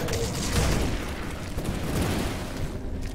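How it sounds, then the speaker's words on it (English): Dense, continuous rumbling blasts and booms from explosions in the video game Grim Dawn, loud and close, overlapping with no clear gaps. "Yeah, those explode great."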